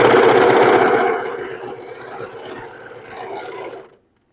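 Serger overlocking a fabric seam on a patchwork dress, a loud close whirring run that eases off after about a second, continues softer, then stops abruptly, with no talking.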